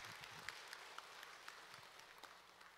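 A church congregation at a Wednesday service applauds together, a soft, steady wash of clapping with a few sharper hand strikes standing out, heard fairly faint and distant throughout.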